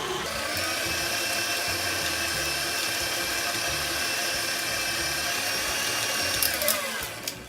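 An electric mixer whirs steadily on a low setting through pineapple cake batter, a loud continuous motor whine from start to finish that shifts briefly near the end.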